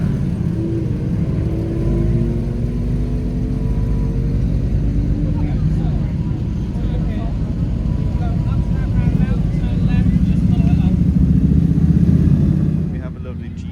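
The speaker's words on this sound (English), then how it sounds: "Got another batch of cars entering now." A batch of supercars rolls into a Goodwood hypercar breakfast meet, with a continuous loud mix of engines rumbling and revving close by as one passes, a crowd murmuring underneath.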